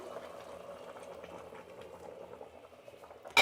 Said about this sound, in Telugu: చూడండి నీళ్ళు పోసేటప్పుడు కూడా అట్లా ఉడుకుతా ఉంది